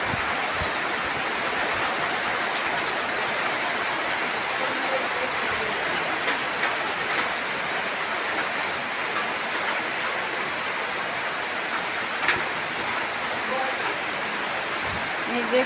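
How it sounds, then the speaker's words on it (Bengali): Steady heavy rain falling after a storm, a continuous loud wash of broadband hiss with no pauses, close and enveloping throughout. "দেখুন কি বৃষ্টি শুরু হয়েছে"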